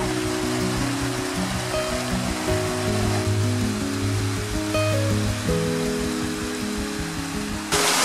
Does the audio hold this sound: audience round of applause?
no